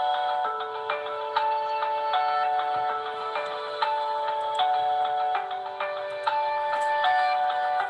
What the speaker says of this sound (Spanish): alguien lo está sonando el teléfono